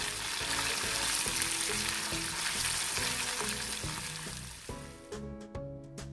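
Fish shallow-frying in hot oil for a fish gravy, giving a dense, steady sizzle close up that thins near the end as the pieces are flipped, with a few light clinks.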